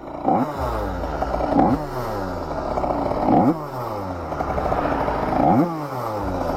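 A Derbi motorcycle engine idles close by and revs up several times in a steady cycle, each rev rising and then dropping back.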